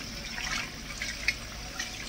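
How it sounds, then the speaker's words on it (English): Tap water running over a wolf-herring fish as it is rinsed clean in a kitchen, a faint, steady splashing hiss with small drips and one brief splash. "Wash it clean."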